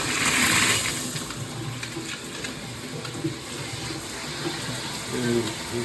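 A rain shower head sprays water in a steady, close hiss with a slight surge at the start, under low background noise.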